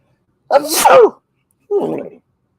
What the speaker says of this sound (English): Hold on, let me sneeze.